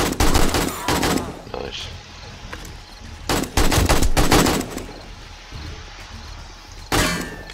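Pistol gunshots in the game 7 Days to Die ring out in sharp, loud bursts, several rapid shots grouped into volleys with pauses between, and someone briefly speaks once.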